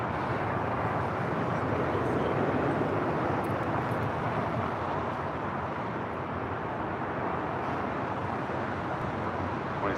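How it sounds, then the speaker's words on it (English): A JetBlue Airways Airbus A321 departs from LAX's south side with a steady, distant broadband jet rumble holding at an even level throughout, with no voices over it. "departure here on the south side is JetBlue Airways, flight 1524 heading to JFK. It's an A321"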